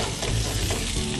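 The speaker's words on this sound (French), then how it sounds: "Une fois l'huile d'olive bien chaude, on met les légumes au fur et à mesure, c'est-à-dire un oignon grossièrement" Chopped onion frying in hot olive oil, a loud, dense, continuous sizzle filling the whole moment with no talk.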